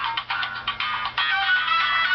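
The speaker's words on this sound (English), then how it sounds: "The ringtone to end all ringtones." A phone ringtone plays, a bright electronic melody of pulsing bursts repeating for about two seconds, fairly loud and heard alone.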